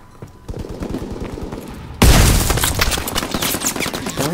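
Shotgun blasts and surrounding gunfire in the Call of Duty WW2 game: a quieter volley of rapid shots, then a loud, dense burst of overlapping gunfire and explosions that holds steady at close range.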